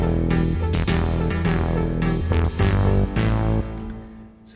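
Shifted up an octave, the Bass 3 analog patch on a Roland JD-Xi synth plays a punchy, buzzy sequence of rapid repeating notes, loud and continuous before it tails off near the end, with no voices.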